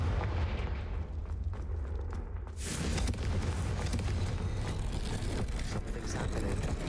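The Confringo blasting spell in Hogwarts Legacy goes off as a sudden deep boom, then rumbling explosive crackle and debris continue loudly to the end.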